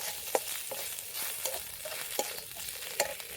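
Potato filling with turmeric powder being sautéed in a pan for samosas, a steady soft frying hiss with a few sharper scrapes of the spoon against the pan, alone and moderately quiet.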